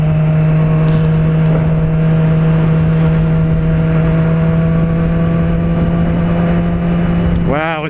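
A 2016 Yamaha R6 motorcycle engine hums loudly and steadily while riding, with wind noise throughout and a sharp rise in revs at the very end.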